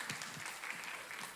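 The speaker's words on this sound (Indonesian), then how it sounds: "kasih tepuk tangan Bapak Ibu semuanya" Soft, steady applause from a church congregation during a worship service, a dense even patter of many hands clapping throughout without a break.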